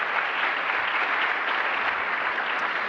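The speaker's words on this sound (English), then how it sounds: "Give him a big round of applause." Crowd at a DC government development announcement giving sustained applause, a thick, even wash of clapping from many hands with no break.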